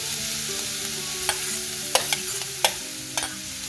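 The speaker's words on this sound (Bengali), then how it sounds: "অ্যাড করে দিচ্ছি গ্রেট করে রাখা বিট আর গাজর" Grated beetroot, carrot and ginger are stir-fried in a pan, with a soft steady sizzle underneath and several sharp utensil scrapes and taps on the pan, close and alone without any talk.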